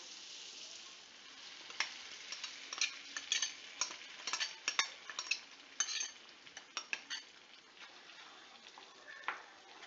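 Gravy for paneer butter masala goes into a hot frying pan, with a soft sizzle underneath and a run of sharp clinks and scrapes from a spoon stirring against the pan, all close up and without talk.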